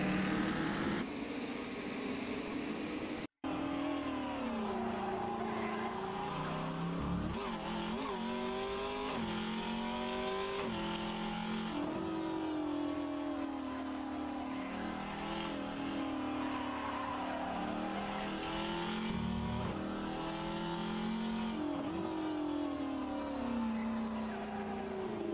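Trans Am race car in rFactor 2 racing around the Townsville circuit, engine droning loudly and steadily for the whole stretch, pitch climbing and falling through gear changes, with a brief dropout near the start.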